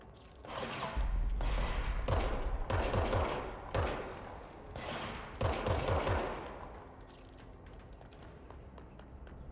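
Bursts of gunfire from the video game Control come in several rapid volleys of sharp, close shots separated by short pauses, with mechanical clicks and clanks between them and softer shots tailing off.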